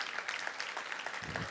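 An audience at a public accounting congress applauds, a brief patter of clapping with a low thump near the end.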